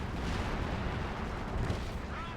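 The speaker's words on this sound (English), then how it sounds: "Artillery from base was pushing away this Pack 40." Distant artillery fire from base in a World War II strategy video game, a steady low rumble of shelling and impacts under continuous battle noise, with no distinct individual blasts.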